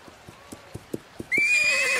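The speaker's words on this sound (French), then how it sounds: "Un cheval sauvage." A wild horse in a cartoon setting gallops with a quick run of clip-clop hoofbeats, then lets out a loud, sustained shrill neigh that fills the last part.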